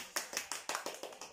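A few hands clap in a quick, regular run of about seven crisp claps during a small dance-camp prize-giving, close and distinct with short gaps between them.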